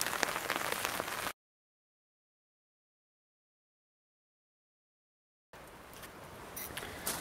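Heavy rain pours down outside in a dense, steady hiss and patter, loud and close, with a long stretch of total silence cutting through the middle before the downpour returns.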